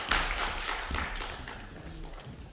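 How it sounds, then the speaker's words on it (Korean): Audience applause for a singer-songwriter taking the stage at an outdoor village culture festival in Gapyeong, a dense steady patter of many hands clapping close and loud, slowly thinning over a couple of seconds with no talking. "여러분들 뜨거운 박수 주십시오."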